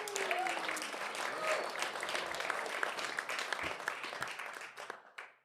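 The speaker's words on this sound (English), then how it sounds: "Let's please give a huge round of applause for the panelists." Audience at a fireside chat at a cutters camp applauds the panelists, dense continuous clapping from a room full of people with scattered voices, fading out at the end.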